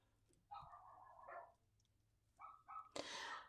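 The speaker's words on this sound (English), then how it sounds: "Oops. Dogs." A dog barks a few times at moderate distance, first in a short burst and then again a moment later, in an otherwise quiet room during craft work.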